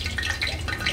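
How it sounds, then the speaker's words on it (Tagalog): Hot oil bubbling in a pan on the stove before pork mask goes in for Bisaya-style sisig, a close, steady sizzle with soft crackles and small drips, no voices. "Kulo na siya."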